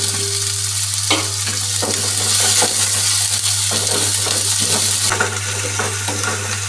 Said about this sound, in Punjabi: ਨਾਲ ਹੀ ਟਮਾਟਰ ਹੁਣ ਇਸ ਦੇ ਨਾਲ ਭੁੰਨਣਾ